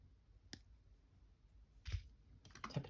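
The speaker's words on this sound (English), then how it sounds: "I'll cut my wire off," Wire cutters snip jewelry wire for a wire-wrapped beaded ring, a couple of small, sharp clicks close by in a quiet room, with a faint tap between them.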